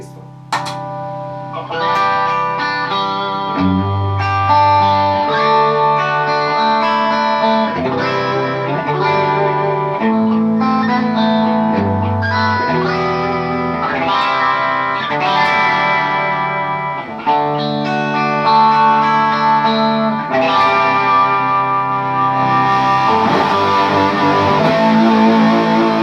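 Electric guitar played through a Fryer Treble Booster into a Vox AC30-style C30 amp, a bright, driven tone with chords and single notes ringing continuously and loud, some echo and shimmer, no voice over it.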